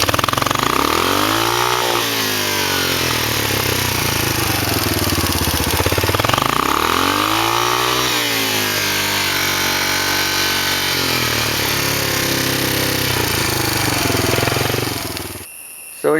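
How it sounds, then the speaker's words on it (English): ATV with a worn, slipping centrifugal clutch revving loudly under hard throttle, the engine note sweeping up and down in repeated surges before dropping off at the end, close and sustained with no talk. "we'll just try giving it hard throttle for the stop"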